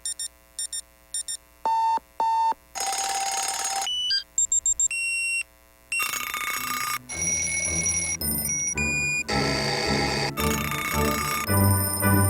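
Alarm clock ringing in a public service announcement about getting children up for school, heard as a run of bright electronic beeps and bell-like rings that break into loud bursts and mix with music toward the end.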